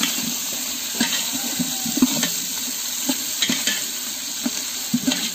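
Whole spices and chopped onion fry in a pan over a steady close sizzle, with a spoon scraping and knocking in a regular stirring rhythm of repeated soft clatters throughout.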